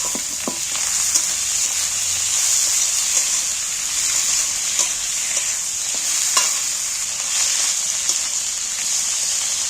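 Small pieces of chopped fat frying with onions in a pan, a steady close sizzle broken by repeated scraping and clinking as the mixture is stirred.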